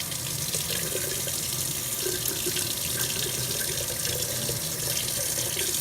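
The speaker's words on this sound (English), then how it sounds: "We've just filled it up with water." Tap water runs steadily into a glass sprouting jar holding broccoli seeds, a continuous close splashing gush with no break and no voices.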